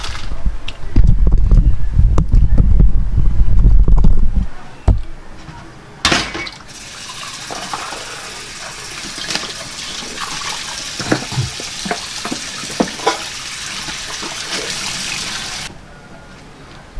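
Dishes being washed in a kitchen sink under a running tap, with a steady rush of water at first, then quieter splashing and scattered clinks of crockery close by.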